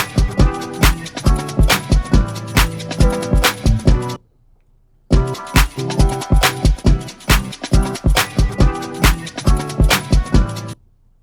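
Chopped remix samples with delay applied, a dense rhythmic loop of punchy beats and layered tones that cuts out briefly to near-silence before the full pattern returns, loud and alone.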